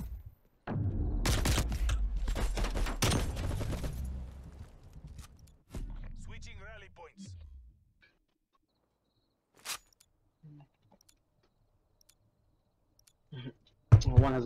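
Rapid clicking bursts of AK rifle fire in a competitive online video game, a dense volley early on followed by scattered isolated shots, with players talking over the action.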